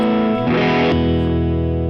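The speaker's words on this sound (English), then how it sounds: "Supersonic." An electric guitar rings out through a Supersonic amp, giving a single loud, distorted chord that sustains evenly with a brief scratchy shimmer early on.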